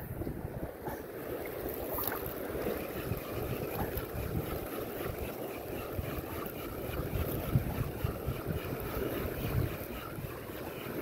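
Strong monsoon wind buffets the microphone in a continuous rush, with waves and water lapping beneath at the coast of Calibayan, Pasacao, Camarines Sur, with no speech.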